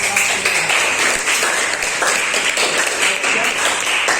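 A class of seventh-grade students at a junior high school in Tegal applauds steadily, with dense, even clapping filling the room throughout.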